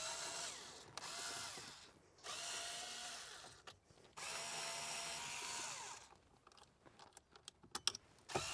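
A power tool whirs in several sustained bursts while 7mm bolts come out of the head unit screen in an S550 Mustang dashboard, followed by clicky rattling handling and small metallic taps.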